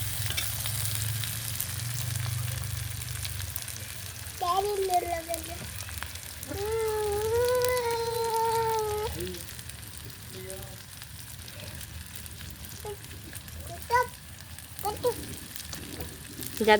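Salted hilsa fish frying in a pan over a clay stove, a low steady sizzle and crackle running throughout beneath intermittent voices.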